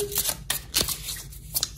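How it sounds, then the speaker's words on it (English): Tarot cards being shuffled by hand, a quick run of crisp riffling flicks and soft slaps, close and fairly loud, with no talk. "give the cards a good shuffle"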